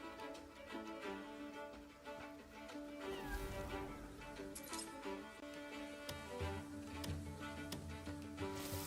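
A cat meows within the video game Crimson Desert, the calls coming over steady background music and ambient game sound.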